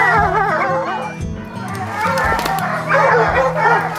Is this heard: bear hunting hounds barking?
yes